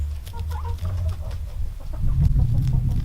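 Chickens cluck and murmur close by in a short burst, with low throaty calls layered over one another.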